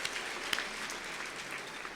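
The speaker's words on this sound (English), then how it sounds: "Another round of applause for them." A brief, fairly quiet burst of clapping from the audience at a school district employee awards ceremony, an even spread of hand claps with one sharper clap near the start.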